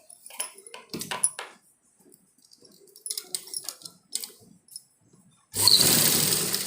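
A sewing machine stitches a baby dress: scattered handling clicks and rustles first, then a loud steady whirring run of the machine for the final second or so.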